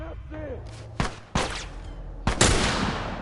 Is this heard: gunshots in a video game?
yes